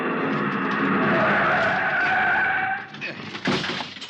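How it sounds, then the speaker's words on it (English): A car brakes hard and skids to a stop against a curb in a radio drama, a loud sustained tire squeal that cuts off abruptly into rougher, fading noise. "The other driver had jammed on his brakes and finally skidded to a stop against the curb."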